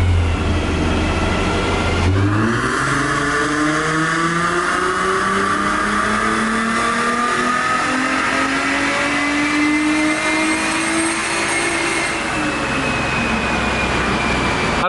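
A car engine revs hard on a dyno with a rigid collar installed, climbing steadily toward about 6,800 RPM in one long rising pull, loud and close, with no talk over it.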